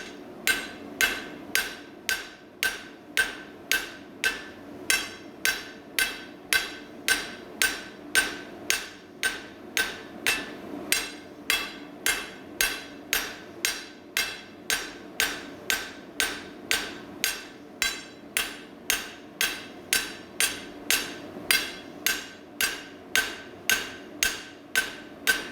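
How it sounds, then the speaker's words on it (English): A hammer strikes metal in light finishing blows while a bar is shaped from square to round, an even, steady rhythm of about two sharp ringing hits per second, close and unbroken throughout. "A little bit of light hammer finishing."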